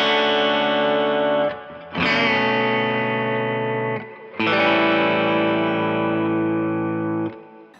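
Heavily distorted, sustained electric guitar chords in a 4-1-6-5 progression change every couple of seconds, each held long and ringing with thick, buzzing tone.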